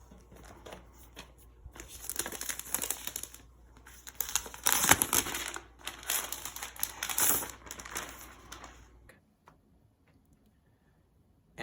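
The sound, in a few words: peeling protective plastic film off new MacBook Pro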